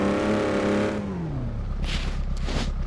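A car revs hard climbing a hill as fast as possible, the engine note rising then falling away, followed by rough tyre and gravel noise; close and loud, no voices.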